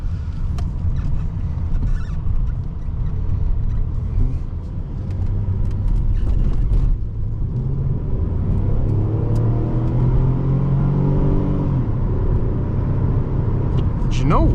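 A 2006 Pontiac Grand Prix sedan accelerating from inside the cabin: steady low engine rumble whose pitch climbs through the gears, close and continuous, with some talking over it.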